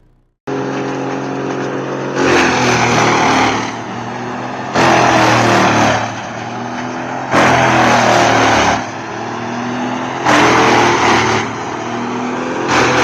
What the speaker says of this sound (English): Amid the roar of engines and swirling with dust, the loader and chipper work together in perfect harmony